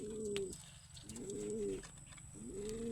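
Homing pigeons back at the loft coo nearby in three distinct, rolling phrases over quiet background noise.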